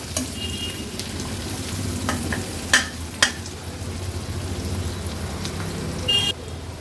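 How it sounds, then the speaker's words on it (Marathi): Onion frying in a pan for village-style chicken curry makes an even, continuous sizzle close by, broken by a couple of sharp utensil clinks, with no talking. "कांदा आता आपण शिजवून घेऊया।"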